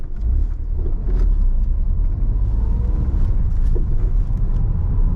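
A car pulling away and driving on after an emergency stop exercise during a driving test in Mill Hill, steady close engine and road rumble from inside the cabin, no talking.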